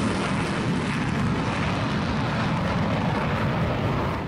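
A MiG-21 jet flown by female pilots roars past at a North Korean air show, a loud, continuous broadband engine rush that stays strong for the whole stretch and eases slightly at the end.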